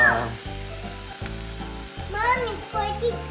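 Pork belly for garlic adobo sizzling steadily in a hot pan, with a voice chirping and babbling over the frying.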